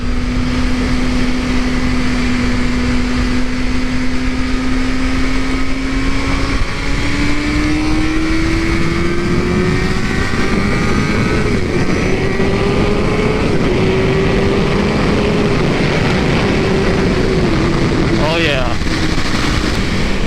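2017 Suzuki GSX-R600 sport bike engine pulling hard while ridden on a road, a steady loud whine whose pitch climbs gradually through the gears, with constant wind roar throughout.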